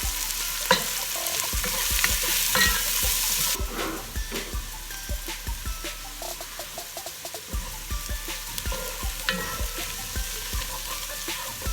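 Onions fry in a pan over medium heat, a steady close sizzle broken by rhythmic scraping stirs, the hiss softening slightly partway through.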